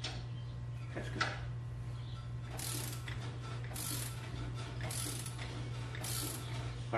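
A Powerbuilt strut spring compressor being tightened gives off repeated ratcheting mechanical clicks at close range. A steady low hum runs underneath throughout, with no talking.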